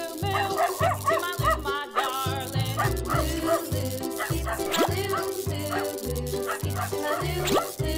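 A dog barks and yips several times over a bouncy, rhythmic children's music track with a steady beat, the animal voice fairly prominent in the mix.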